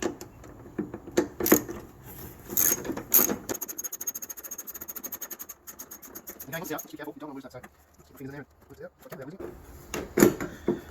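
A tool working a bolt on a Holden Captiva headlamp fitting, giving a fast buzzing ratchet run and scattered clicks and clunks close by, with someone talking over parts of it.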